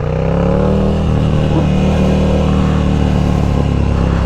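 A Ducati Scrambler motorcycle fitted with a Competition Werkes slip-on exhaust gives a loud, continuous engine rumble heard up close while riding in low gear.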